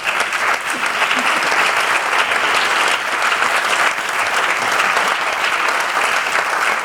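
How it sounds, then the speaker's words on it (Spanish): Warm, continuous applause from an audience at a book presentation event for Real Club Deportivo, the clapping dense and even throughout without a break. "Otro aplauso para Lois, por favor."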